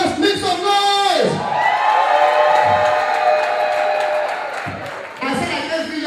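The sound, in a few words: crowd screaming and clapping when called to make noise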